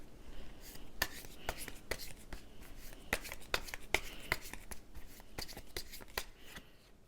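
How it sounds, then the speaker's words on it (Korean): Tarot cards being shuffled and drawn by hand during a reading, giving a steady run of crisp, papery flicks and snaps close up, with a few sharper slaps standing out along the way. "그래서 좋은 카드 좀 더 뽑아볼게요."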